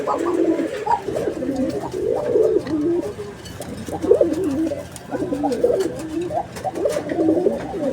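Male pigeon of a Kolshi breed cooing in a bird market, repeated rolling coos in rhythmic bursts, close and clear.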